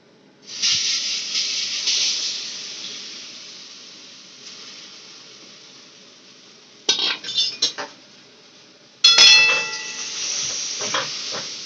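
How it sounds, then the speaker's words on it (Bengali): Ground spice paste of ginger, chilli, turmeric, cumin and coriander hitting a hot wok for dhokar dalna, bursting into a loud close hiss that fades, then flares again with utensil clatter and stirring. "এটা এখন কড়াইতে দিয়ে দেবে"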